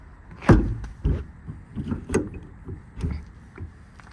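Service body drawers on a 2019 Ford F-550 with a Stellar TMAX body, sliding and latching shut in several separate thumps and clicks, close and moderately loud with quiet pauses between.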